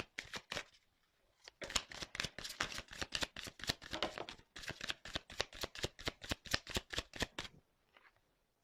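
Tarot cards shuffled by hand at close range, a brief riffle, a pause, then a long run of quick, crisp flicks and slaps in an even rhythm before stopping.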